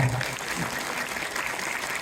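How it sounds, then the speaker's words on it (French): A cinema audience at a film premiere at the Gaumont Multiplexe in Montpellier claps steadily, a dense even roar of hands with a brief voice at the start. "Vous pouvez réapplaudir peut-être."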